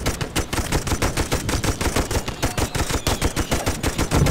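World War I machine gun in the Toy Soldiers video game, set at Langemarck 1914, rattling in a steady rapid burst of evenly spaced shots, loud and continuous throughout with no talking.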